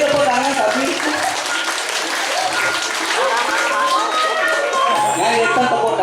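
A crowd applauds a Balinese prembon dance-drama performance at a temple, with dense, continuous clapping throughout and voices mixed into the crowd noise.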